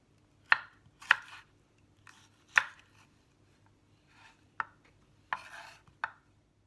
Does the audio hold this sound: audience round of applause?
no